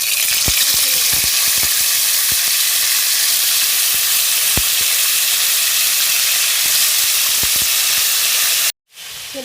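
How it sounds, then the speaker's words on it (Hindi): Chicken pieces sizzle and spit in a quarter cup of oil heated on full flame, a steady dense frying hiss with scattered pops throughout, close and loud, cutting out briefly near the end. "इसको इतना फ्राई करना है कि इसके ऊपर कलर आ जाए"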